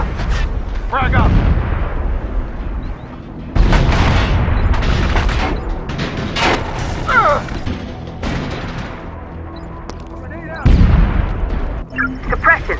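Frag grenade explosions boom in Socom 4 amid heavy gunfire, with several loud, close bursts spread across the scene and voices calling out over the combat.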